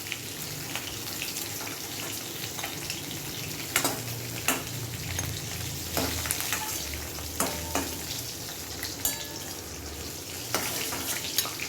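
Fish pieces fry in hot oil with a continuous close sizzle, broken by scattered sharp spits and crackles, and no talking.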